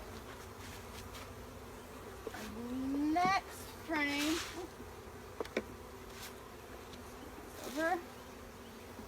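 Honeybees from a nuc hive buzzing over a pollen-and-nectar comb frame, a steady low hum throughout with someone speaking over it in short bursts.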